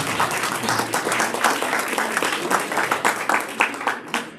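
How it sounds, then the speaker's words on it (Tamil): Audience applause at a youth-versus-adults talk show, brisk continuous clapping from many hands, fairly loud and steady with rapid overlapping claps throughout. "அவங்களுக்கு ஒரு பெரிய கைத்தட்டல் சொன்னேன்."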